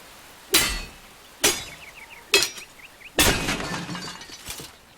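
A stone pickaxe strikes rock while mining in the video game Enshrouded: four sharp, crunching impacts, each with a shattering, crumbling tail, the last one longer and heavier, loud and close.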